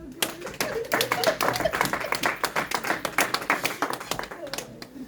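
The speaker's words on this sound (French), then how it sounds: "Acclamons le Seigneur" A church congregation claps to acclaim the Lord in a brisk, steady rhythm of many hands, fairly loud, with voices calling out over it.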